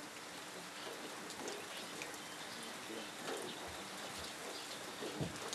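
Light rain falls over a village in India, a soft, even patter and hiss that stays faint and distant for the whole stretch.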